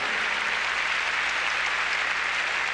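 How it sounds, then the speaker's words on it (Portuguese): A church congregation applauding during worship, a continuous, even hiss of many hands clapping at once, fairly loud and steady from start to finish with no voices on top. "Vamos aplaudir ao Senhor."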